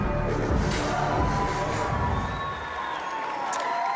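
A large crowd cheers and roars as someone makes an entrance, a dense, steady wash of voices with a few sharper shouts rising above it.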